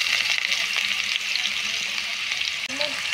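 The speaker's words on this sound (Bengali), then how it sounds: "তেলটা গরম হয়ে যাওয়ার পর আমরা এর মধ্যে দিয়ে দেবো কোচানো আলু" Chopped potatoes frying in hot white oil in a wok, giving a loud, steady, close sizzle that runs without a break and with no voices over it.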